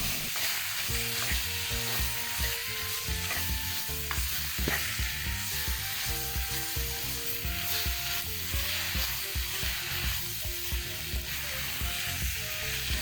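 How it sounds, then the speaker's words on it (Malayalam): Chopped tomatoes being stirred into fried spice powders in a pan for a Kerala mackerel chilli curry, a steady sizzle with continuous scraping and stirring throughout, close and fairly loud, no voices. "ഇതിലേക്ക് അരിഞ്ഞു വെച്ചിരിക്കുന്ന തക്കാളിയും ഇട്ട് കൊടുക്കാം. ഇനിയും ഇതിനെല്ലാം കൂടി നന്നായി മിക്സ് ചെയ്യണം."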